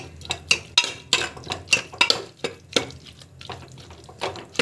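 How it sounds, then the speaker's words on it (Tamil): Metal utensil scraping and clinking against a pan of curry in repeated strokes, a steady stirring rhythm up close with no talking. "இப்படி கலக்கி விட்டுக்கோங்க"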